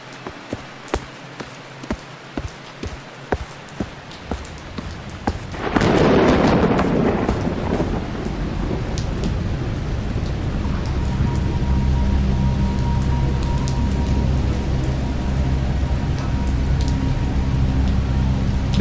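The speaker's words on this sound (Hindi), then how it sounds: "इस तूफ़ानी बारिश से बचने के लिए मुझे थोड़ी देर की पनाह चाहिए" Steady heavy rain pours down after a few sharp ticks, with a loud rumble of thunder swelling midway and the downpour continuing dense and close.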